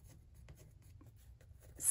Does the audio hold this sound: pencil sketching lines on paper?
yes